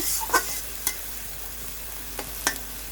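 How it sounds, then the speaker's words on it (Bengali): Rohu fish masala frying in a pan, a soft steady sizzle broken by a few sharp scrapes of a spatula stirring, close and clear with no talking. "ভালো করে নাড়াচাড়া করে আবার একটু মিশিয়ে নিচ্ছি"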